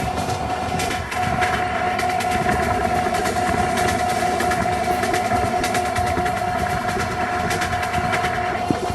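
A train in the Train Simulator Bangladesh game slows on its approach to Chittagong station, a steady loud rumble of engine and wheels with a sustained horn tone running throughout and no talking.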